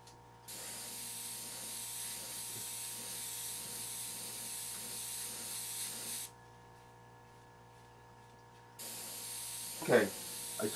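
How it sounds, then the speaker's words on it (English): A steady, close airbrush hiss sprays paint for a woodgrain finish for several seconds, cuts off, then resumes with a short clatter of handling noise. "I'm just going to give that kind of a wide spray and a little bit of a brush."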